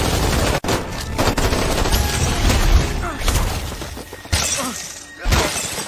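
Gunfire in an action film about an elite squad, with dense bursts of shots, shattering impacts and booming blasts filling the scene almost continuously, briefly dropping out before resuming loudly.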